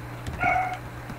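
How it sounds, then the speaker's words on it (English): A dog in the background of an indoor room, one short yelp or bark that is faint and brief against a steady low hum. "you guys can hear my dog in the background"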